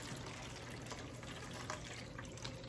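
Rainwater poured into the bottom of a seedling tray indoors, a steady close splashing trickle of liquid that runs continuously with no talk over it.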